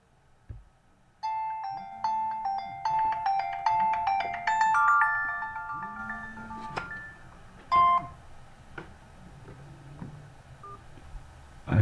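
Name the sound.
phone ringtone, incoming call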